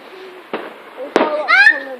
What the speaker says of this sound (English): Oh, they might be setting off another one. There's some fireworks over there.